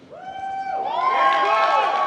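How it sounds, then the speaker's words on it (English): A crowd at a boxing final press conference boos and claps, with loud whooping voices swelling into a dense, rising roar. "Y'all been booing me and clapping for him."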